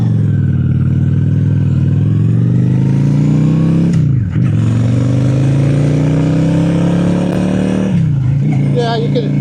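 A Honda Shadow 750 Spirit cruiser pulls away and accelerates without downshifting, its engine note rising steadily, dipping briefly at two gear changes and then climbing again, loud and close.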